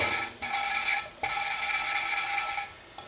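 A valve from a 1975 Kawasaki Z1 900 engine is lapped against its seat with grinding compound, a close, raspy back-and-forth scraping in several long strokes separated by brief pauses.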